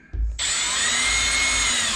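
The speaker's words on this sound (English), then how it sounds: "the drill won't stop" A power drill starts up abruptly after a brief thump and then whines steadily at high speed while boring into wood, loud and close.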